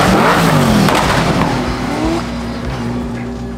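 A race car on the Calmont hill climb course roars past close by, engine note rising then fading as it pulls away, with a faint tire squeal.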